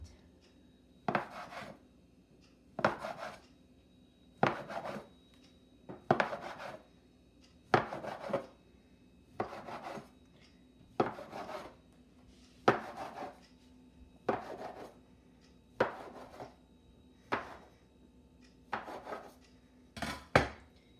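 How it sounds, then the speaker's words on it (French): A knife cuts through cinnamon bun dough, about a dozen evenly spaced cutting strokes, each a short scraping thud against the board, heard close and alone at a slow, steady pace. "Coupez toute la pâte"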